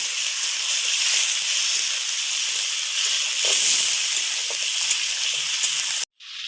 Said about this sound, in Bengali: ওলকপি আলু খুব ভালো করে ভেজে নিয়েছি